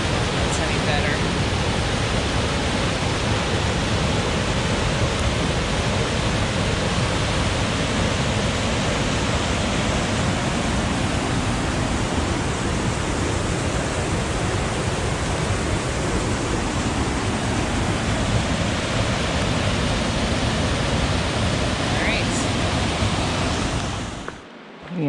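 Bemis Falls, a waterfall heard up close on a rainy day, pours as a loud, steady broadband roar that stays constant for the whole stretch before cutting off abruptly at the end.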